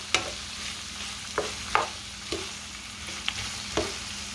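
Chicken bog ingredients sautéing together in a pot, with a steady low sizzle beneath a handful of sharp spoon scrapes and clinks against the pot, spaced irregularly and heard up close.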